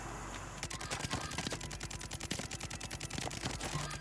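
Rapid bursts of gunfire from an AK rifle in Warzone 2, dense sharp shots crackling in quick succession over a steady game background, fairly quiet overall.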